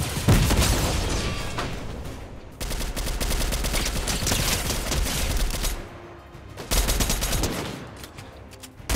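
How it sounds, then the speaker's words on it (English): Dense gunfire rattles through a Fortnite Zero Build squads match, with rapid automatic bursts and booming shots packed tightly together. The shooting is loud and nearly continuous, pausing only briefly before the firing resumes, and no voices are heard. "why are they shooting me?"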